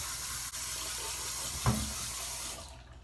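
Water runs steadily from a bathroom sink tap as someone rinses their face, with a single brief splash in the middle, continuous close hiss of flow that stops near the end.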